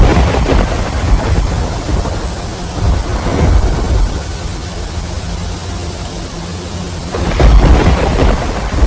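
Heavy night rain pours steadily while thunder rumbles low and long, swelling again near the end; loud and close, no voices.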